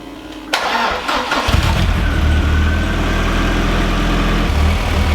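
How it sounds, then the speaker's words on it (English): Ford Escort RS Cosworth engine cranks and catches after a brief quiet start, then settles into a loud, steady, close idle with an uneven, spluttering misfire running through it. "it does appear to be still misfiring"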